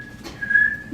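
A high, thin whistle from a vent in a township meeting room, a single steady tone under a second long that swells slightly louder toward the end, with no voices over it.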